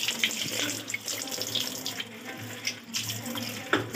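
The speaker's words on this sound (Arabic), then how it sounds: "كل ما تبقى المية شديدة تنضف منها أفضل وقت." A strong water spray rinses the inside of a washing machine drum during cleaning, a steady loud hissing rush with splashing that keeps on throughout, with no voices.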